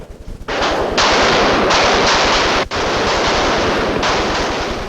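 A loud sustained volley of rifle fire follows a firing command, dense crackling bursts with a brief break midway, close and overwhelming, with no voices heard.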